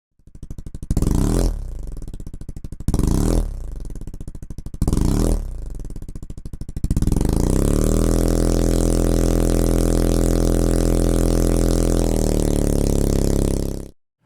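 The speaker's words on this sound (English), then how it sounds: "First, let's listen to the audio from the old engine simulator so we know our starting point." An old engine simulator produces synthetic car engine sound: three short buzzy revs with pauses, then a long steady droning hum at constant pitch that cuts off abruptly.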